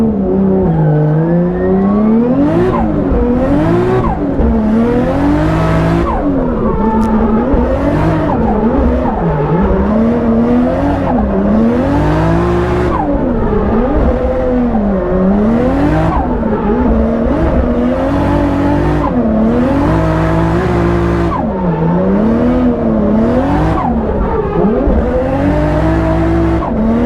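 A BMW E36 fitted with a 1.5JZ engine drifts at a competition, its engine loud and close throughout, revs rising and falling in repeated swells as the tires squeal continuously.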